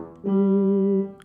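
Bach organ variation at bar 22 in the Stichfassung version, with the pedal line sounding; one steady, loud held organ tone lasting about three-quarters of a second and then releasing.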